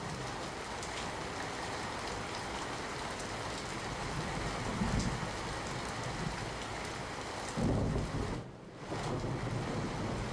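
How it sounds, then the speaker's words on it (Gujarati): Heavy rain pours steadily over Amirgadh and Iqbalgadh in Gujarat's Banaskantha area, a dense continuous hiss of drops on surfaces that swells briefly around the middle and again near the end before a short dip. "અમીરગઢમાં ઇકબાલગઢ પંથકમાં ભારે વરસાદી માહોલ જામ્યો છે"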